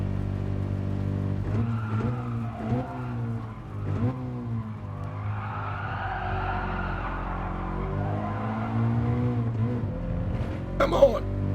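Race cars in Gran Turismo drive with steady engine drone and occasional tire skids, the engine harmonics rising and falling with gear shifts, while someone talks over the game sound throughout.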